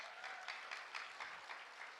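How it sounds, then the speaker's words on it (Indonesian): Church congregation applauding steadily, dense even clapping with soft rhythmic swells, moderately distant and filling the room. "Wow, tepuk tangan buat Tuhan Yesus."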